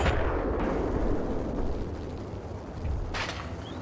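A grenade blast in the video game Max Payne erupts as a loud, dense burst with rumbling low end, followed by a second sharper crack near the end, all fairly close and without talk.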